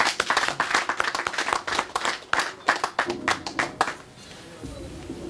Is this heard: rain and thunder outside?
no